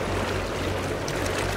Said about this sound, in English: Waves crash off the coast as the Coast Guard search moves into another stretch of water